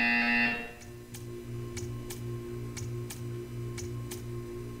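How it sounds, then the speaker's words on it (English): A short electronic buzzer sounds at the start in the game Portal 2, followed by a steady, evenly spaced ticking over a low hum, with no talking. "You will hear a buzzer. When you hear the buzzer, stare at the art."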